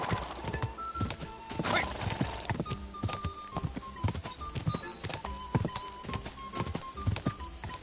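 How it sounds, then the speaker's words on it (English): A horse gallops in the video game Kingdom Come: Deliverance 2 with rapid, rhythmic hoof clip-clops up close, and a whinny breaks through early on. "This horse"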